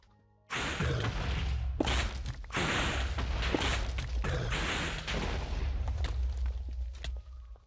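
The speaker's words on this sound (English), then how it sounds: "Sorry for the loud explosions." Repeated loud explosion blasts in the video game Minecraft, with heavy booming bursts and crackling debris, several in quick succession over about seven seconds.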